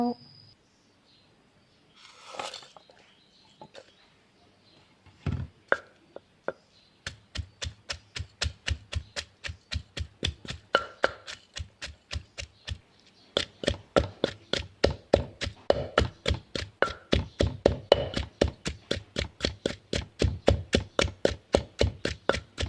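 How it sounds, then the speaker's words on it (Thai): Chilies are pounded in a mortar for a Thai curry, with a few scattered knocks at first and then a long run of steady, evenly spaced thuds that grow louder and quicker, close up. "เอาไปโคกพริกกันก่อนเจ้า"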